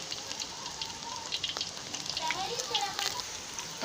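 Stuffed bitter gourd pieces fry in hot oil with a steady, close crackling sizzle and scattered sharp pops, alone and fairly quiet.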